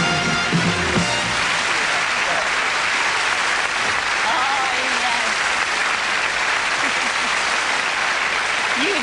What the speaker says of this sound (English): what you will need is a good round of applause for Duncan Goodhue here